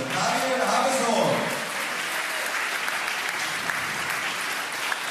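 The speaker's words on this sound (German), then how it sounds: "Also einen kleinen Applaus" Applause from a crowd at a football match in Wiener Neudorf, Austria, greeting a player. Dense, steady clapping fills the whole stretch and swells slightly near the start.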